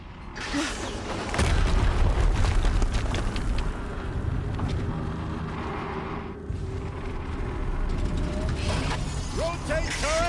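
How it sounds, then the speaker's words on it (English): An explosion in the video game Horizon Zero Dawn, a loud booming blast followed by sustained rumbling, crackling debris and mechanical clatter, with scattered higher chirps near the end. "Another explosion."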